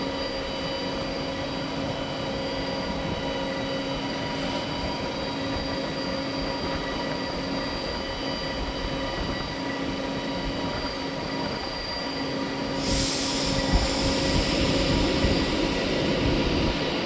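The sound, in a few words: Avanti West Coast train departing station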